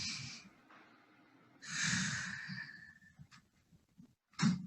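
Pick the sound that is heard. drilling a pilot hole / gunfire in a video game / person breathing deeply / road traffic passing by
person breathing deeply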